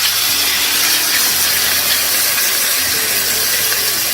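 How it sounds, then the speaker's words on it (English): Shrimp sizzle in olive oil in a pan over medium-low heat, giving a steady, loud, broadband hiss that runs unbroken with no voices. "So I'm going to put a little bit of olive oil and first cook up the shrimp."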